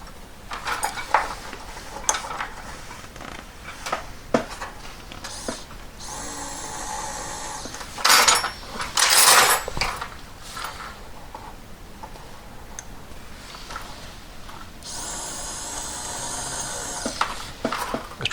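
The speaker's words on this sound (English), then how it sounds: "Drill's a bit blunt." A slightly blunt drill boring into a ring for a handmade brooch pin catch, several short high whining bursts separated by pauses, close, with small metallic taps and clinks between them.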